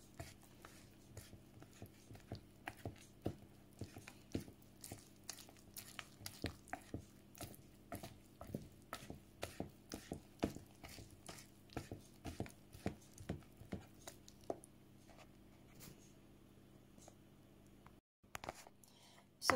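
Cake dough for an apple cinnamon cake being slowly mixed by hand, a soft, quiet series of rhythmic squishing and tapping strokes repeating steadily for about twenty seconds.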